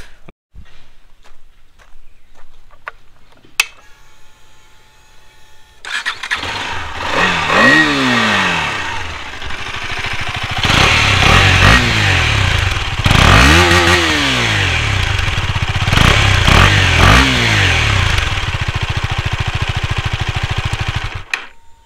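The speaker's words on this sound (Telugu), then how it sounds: "ఈ బైక్ ఎగ్జాస్ట్ నోట్ అయితే వినండి" A KTM Duke 250 motorcycle starts after a few quiet clicks, then idles with a throaty rumble and is revved hard several times, the exhaust note rising and falling loudly.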